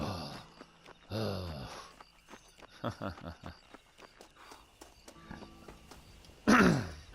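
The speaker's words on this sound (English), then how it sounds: "You can hear Marston breathing heavy." A video game character named Marston breathes heavily in rough, raspy gasps, moderately close, with scattered footsteps and faint rustling between breaths and a louder huff near the end.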